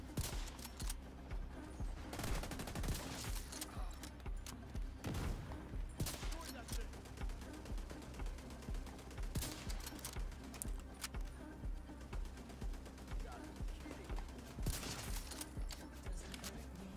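Enemy gunfire in The Division 2, rapid rattling bursts repeating throughout at moderate distance, with a voice talking over parts of it.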